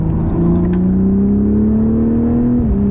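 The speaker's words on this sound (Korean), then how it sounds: "배기음이 지금 여기서는 나쁘지는 않은데" A BMW Z4 M40i engine drones steadily from inside the cabin, its exhaust note slowly rising in pitch under a low rumble before easing off near the end.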